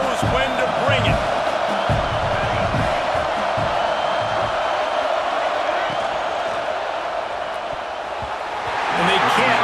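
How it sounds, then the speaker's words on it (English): A big crowd roars and cheers steadily through a Michigan versus Arkansas football game in a packed stadium, a dense wash of noise with a swell near the end and commentators talking over it. "This crowd knows when to bring it."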